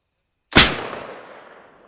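A sniper rifle fires once in the military shooter ArmA: a single loud, sharp crack that rings out in a long, fading reverberant tail.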